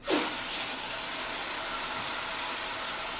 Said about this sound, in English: Then I just add water till it's about an inch or two above the loofah.